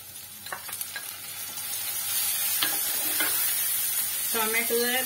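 Onion and tomato fry in a pan with a continuous sizzle and intermittent spatula scrapes and clinks, growing louder midway; a brief voice is heard near the end.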